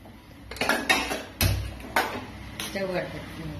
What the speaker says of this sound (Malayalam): കുക്കർ അടുപ്പത്ത് വെച്ചിട്ട്